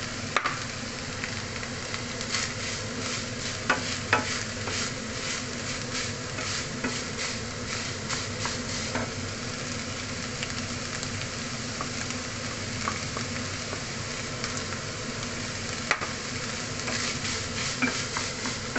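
Minced beef and onions fry in a pan for a bolognese meat sauce, giving a steady, even sizzle with scattered small crackles and stirring clicks throughout, no voices.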